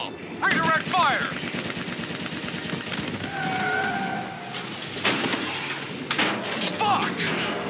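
Bursts of gunfire and explosions in a Call of Duty Black Ops 3 battle, with rattling automatic fire and impacts under shouted voices throughout.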